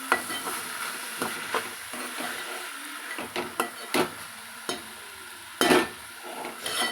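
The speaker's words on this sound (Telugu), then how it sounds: "కలుపు పప్పు కిందికి మీదికి కలుపుకుందాం" Spoon stirring ridge gourd and moong dal in a pot, with occasional sharp clinks against the pot and a soft sizzling bed underneath, nearby and fairly loud, with no talking.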